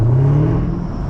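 Camaro ZL1 1LE engine running loud and close in Atlanta traffic, a deep steady rumble with a rising rev that eases back over about a second, no voices.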